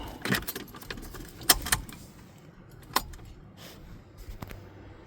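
A key jangles on its ring and clicks as it turns to the on position in the ignition of a Vauxhall Astra VXR, with a few sharp metallic taps over a quiet background.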